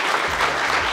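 An audience at an indoor festival event claps in a brief, dense round of applause, loud and close, with no speech over it.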